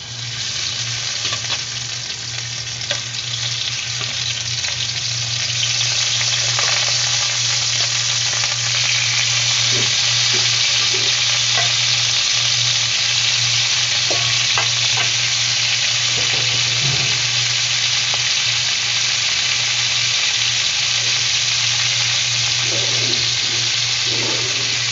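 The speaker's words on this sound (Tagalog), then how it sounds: "Pag mapula na yung garlic, ilagay natin yung pork." Pork drops into a pan with browned garlic and fries in a loud, continuous sizzle for the whole stretch, with occasional stirring clatter and a steady low hum underneath, no voices.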